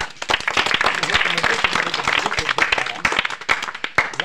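Audience applause at a village street magic show, dense clapping from a gathered crowd that runs steadily throughout, with a voice briefly heard among the claps.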